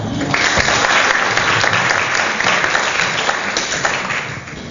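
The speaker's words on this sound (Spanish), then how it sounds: "Un fuerte aplauso, por favor." At a young professionals' conference in Córdoba, Argentina, the audience breaks into loud, steady applause from many hands, holding strong for several seconds before easing slightly at the end.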